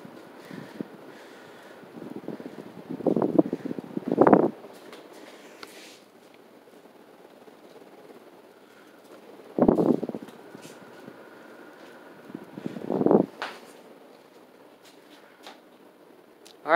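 A 52-inch Hampton Bay St. Claire ceiling fan with a 172 by 15mm motor runs on high, a soft steady airy whoosh with slow swelling gusts of louder rushing air.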